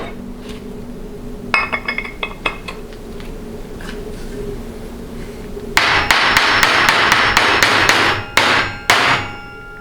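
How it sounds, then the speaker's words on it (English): A mallet taps a part to seat it in a 62TE transmission input housing: a few scattered knocks, then a fast run of sharp ringing blows and a couple of final hits, all close. "So I'm gonna take a mallet and see if we can get it to fully seat."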